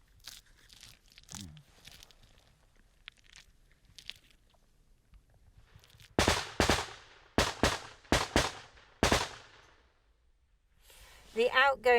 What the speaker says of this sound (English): the outgoing machine gun fire from the Ukrainians is aimed at suppressing the Russians